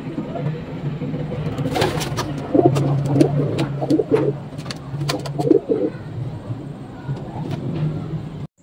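Racing pigeons coo repeatedly in low, throaty bursts at close range, set against a steady background hum and occasional clatter, as the birds wait to be loaded into crates for a 106 km training flight.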